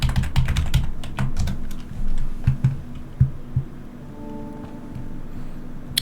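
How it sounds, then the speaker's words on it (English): A computer keyboard clicks under quick fingers as a password is entered, with a burst of rapid keystrokes, a pause, then more scattered taps, close and clear. "then you're going to put in your super secret password"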